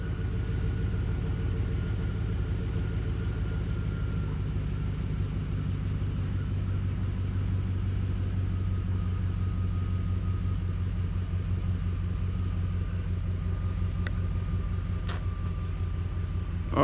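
A 2007 Chevy Tahoe engine idles in a steady, continuous low rumble, close and even throughout, with a couple of faint clicks near the end.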